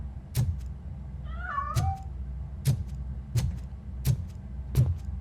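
In the video game RoboCop: Rogue City, a cat gives one short meow over a low engine-like hum. Sharp, evenly spaced knocks or footfalls sound about every 0.7 seconds, moderately close and with no talking.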